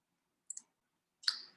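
Two crisp, quiet computer mouse clicks in a near-silent room, a quick tick pair followed by a slightly fuller click, close to the microphone with no voices.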